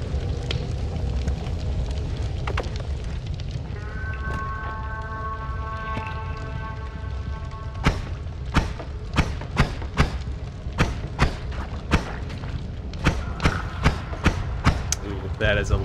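Bomb blasts in the video game Noita land as a run of sharp, loud thuds in irregular bursts over crackling, fiery rumble, while a steady tone hums in the background.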